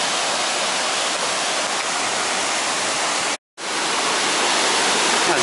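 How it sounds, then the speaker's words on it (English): A small waterfall, about 15 feet high, beside a footpath in Llanberis gives a steady, close, loud rush of falling water, a dense unbroken roar that cuts out for a split second, then resumes. "I guess that is the waterfall just there."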